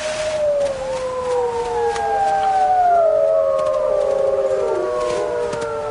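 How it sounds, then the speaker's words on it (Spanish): Wolves in a mountain setting howl together, several long gliding voices overlapping and rising and falling in pitch, loud and sustained with no talk. "Ahora escucha aullidos que le resultan familiares."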